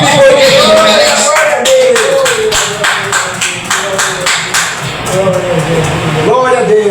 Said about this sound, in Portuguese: dá uma salva de palmas bem forte, porque Jesus merece